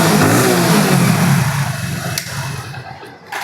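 A 2019 BS4 motorcycle engine revs loudly right after a self-start, the rumble strong at first then easing toward a steadier idle, close by with no talk.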